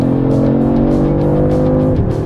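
A Porsche Cayman GT4 RS at full throttle on the Poznań race track, its engine a loud, close howl that climbs in pitch before a quick gear change near the end.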